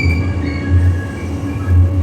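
LRT Jakarta light rail train rounding a sharp curve near Pegangsaan depot, with a steady low rumble and faint metallic wheel squeal running throughout, close and fairly loud with no voices.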